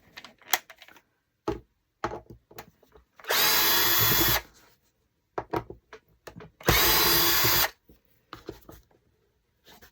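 A power drill backs screws out of hinges in two loud whirring bursts of about a second each, separated by clicks, taps and handling noises of the tool and the hardware.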